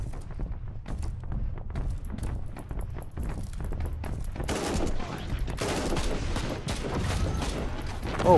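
Rapid autogun fire in Warhammer 40K Inquisitor Martyr, a dense stream of sharp repeated shots with loud bursts swelling toward the end, over continuous game rumble.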